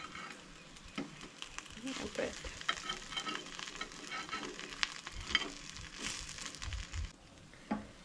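Dry mackerel sizzling and frying in a pan, a steady crackle with occasional stirring scrapes and spatters, close and moderately loud, with no talk.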